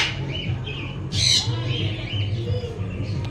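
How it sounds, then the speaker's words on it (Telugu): A parrot at an animal and bird exhibition lets out one short, harsh squawk, sharp and nearby amid faint chirps and general background murmur. "ప్యారెట్ అయితే ఇక్కడ సౌండ్ వేస్తూ ఉంది, మీరు చూసుకోవచ్చు."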